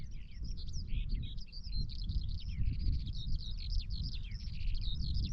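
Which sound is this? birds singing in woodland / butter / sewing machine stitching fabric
birds singing in woodland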